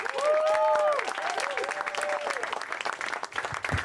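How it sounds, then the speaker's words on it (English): Audience applause for comedian Jose Sarduy at a show for troops, dense sustained clapping with cheering and whoops rising over it at the start, continuing steadily throughout. "Please give a big round of applause for Jose Sarduy."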